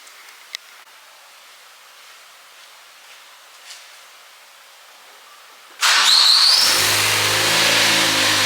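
A 2015 Ford Focus ST with a catless downpipe cold-starts after several seconds of near silence, bursting into a loud, steady idle with a brief rising squeal at the catch, recorded close up.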